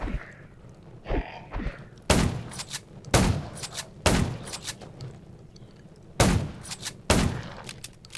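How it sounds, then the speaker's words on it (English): Gunfire in the zombie survival video game Undawn: five loud, sharp shots land roughly a second apart in irregular pairs, with softer thuds and breathy character sounds between them. "Gunshots will attract more."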